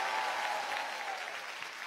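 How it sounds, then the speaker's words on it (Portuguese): Studio audience of a Brazilian TV variety show applauding a contestant, a thick, steady roar of clapping and crowd noise, loud at first and easing slightly, with a faint voice underneath. "Uma salva de palmas para a Alexia"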